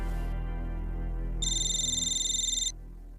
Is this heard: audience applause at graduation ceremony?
no